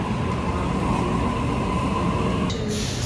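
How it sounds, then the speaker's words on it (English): A train at a Sydney railway station rumbles loudly and steadily close by, with a constant roar and a faint hum before a brief hiss near the end. "The train on platform 18 goes to Schofields"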